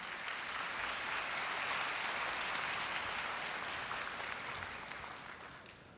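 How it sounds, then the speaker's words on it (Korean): Audience applause fills a university entrance ceremony hall as the president is welcomed, a dense, steady wash of clapping from a large crowd that holds evenly and then begins to taper toward the end. "뜨거운 박수로 맞이해 주시기 바랍니다"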